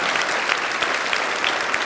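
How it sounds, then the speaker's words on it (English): Elementary school fifth grade graduation crowd gives two students a big round of applause, a dense, loud burst of clapping filling the short moment without letup. "Let's give them a big round of applause"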